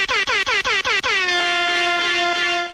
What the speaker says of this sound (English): How do those air horns sound to you at 7:30 in the morning, 7:50 in the morning?